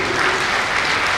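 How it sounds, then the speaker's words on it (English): Audience applause at a kindergarten convocation day at Lourdes Central School, a steady dense wash of many hands clapping throughout, fairly loud and continuous with no talk. "Can you have a big round of applause, please?"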